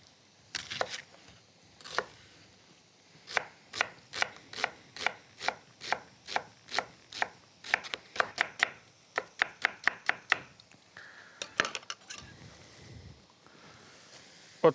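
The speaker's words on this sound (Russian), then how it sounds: "И продолжу нарезать лук." Steady knife chops through an onion on a cutting board, a regular series of crisp taps that quicken in the middle, in a quiet room, preparing an onion pie.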